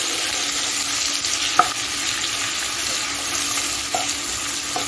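Onion frying in a pan over medium gas for chirer polao, a steady close hiss of sizzling oil with an occasional tap of the spatula, no voices.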